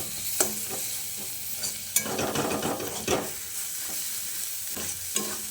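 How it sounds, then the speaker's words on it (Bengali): Beaten egg fries with onions in a pan, giving a steady close sizzle broken by scraping stir strokes and occasional sharp clinks of a spatula against the pan. "ডিমটাকে একটু ভাজা ভাজা করে নিয়ে এবার এই পেঁয়াজের সঙ্গে মিশিয়ে দিচ্ছি"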